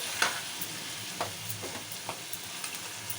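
Chicken curry masala being stirred over a medium flame, a soft steady sizzle broken by a few light spoon scrapes against the pan, close and quiet, with no voices.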